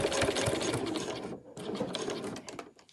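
A sewing machine runs steadily and close by, stitching along the fabric edges of a handmade travel wallet, with a brief pause midway before the continuous whirring stitching resumes.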